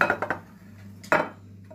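Chilli pakora batter of gram flour, nigella seeds, chilli powder, rice flour, salt and turmeric being mixed in a bowl, with a few quick clinks and scrapes of a utensil close by.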